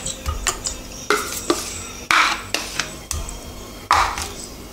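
A spoon scrapes and knocks against a bowl while a thick mascarpone mixture is stirred, giving a series of close, irregular clacks and soft swishing strokes.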